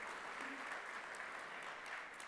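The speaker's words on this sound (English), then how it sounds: "Let's give an applause for our sponsors." Continuous audience applause at a TEDx event, an even wash of many hands clapping, fairly distant and steady throughout.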